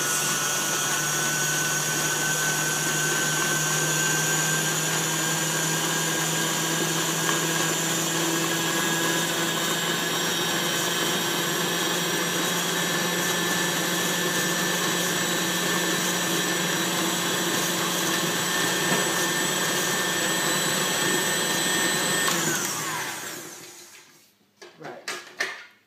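An electric mixer whirs continuously as it beats buttercream icing made with icing sugar, a steady close motor drone that runs for over twenty seconds before cutting off, followed by a few faint clinks.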